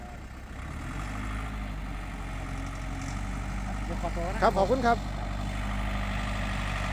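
A Yanmar farm tractor pushes and grades laterite soil for an access road, its low engine droning steadily at a near distance while someone talks over it.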